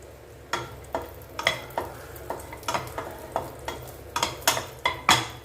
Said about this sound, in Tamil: இது நல்லா வறுப்படட்டும், வறுத்து எடுத்து வச்சுக்கலாம்.